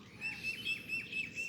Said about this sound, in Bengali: পাখি ডাকছে, সবাই ঘুমে,